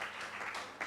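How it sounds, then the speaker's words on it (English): Conference audience at a healthcare event in Nigeria applauding, a steady wash of many hands clapping together with a brief swell near the end, no voices over it. "Please give Lagos State a round of applause for that."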